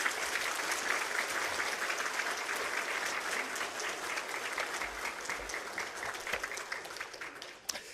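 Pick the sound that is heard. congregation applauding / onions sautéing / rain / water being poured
congregation applauding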